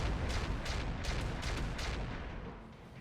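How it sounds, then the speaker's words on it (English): Sniper artillery fire in the mech combat video game RogueTech (BattleTech mod), dense rumbling booms and blasts overlapping in a rapid volley, loud and close, fading slightly at the end. "we're also going to go for the sniper artillery on the Firestarter"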